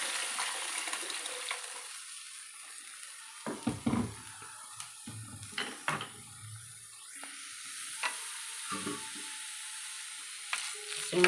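Rasam mixture for butterfly pea flower rasam poured into hot ghee on a stove, a sputtering sizzle with bursts of crackle and stirring over a steady hiss, no talking.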